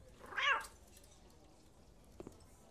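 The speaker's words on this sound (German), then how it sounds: "Katze. Hallo, Katze." A cat in Cafe Owner Simulator gives a single clear, fairly close meow, followed by quiet background sound and a couple of faint clicks.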